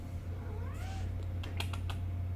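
A pet cat meows a couple of times on a desk in a quiet room, its short rising calls close and faint over a steady low hum, followed by a few scattered soft clicks like keyboard taps.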